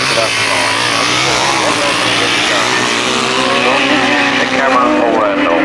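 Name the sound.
grasstrack racing motorcycles going around the turn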